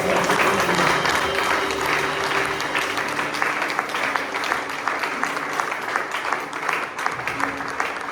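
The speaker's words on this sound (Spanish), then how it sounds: "¿Por qué no le das un fuerte aplauso?" Spanish-speaking church congregation at a men's meeting giving a strong round of applause, loud dense clapping that fills the hall, gradually thinning toward the end with some voices mixed in.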